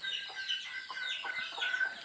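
Chickens and a rooster cluck and chirp repeatedly and fairly close on a poultry farm, in short irregular bursts over a quiet background.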